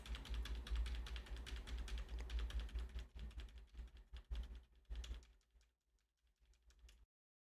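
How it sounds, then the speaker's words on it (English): Computer keyboard typing at a distance from the microphone, a quick, fairly faint stream of clicks that thins out and gets quieter toward the end before cutting off. "Keep typing. You should be able to hear that, even though my microphone's kind of far from it."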